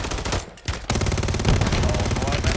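Rapid automatic gunfire in Call of Duty, dense and loud, with sustained bursts of shots after a brief pause near the start and no talk over it.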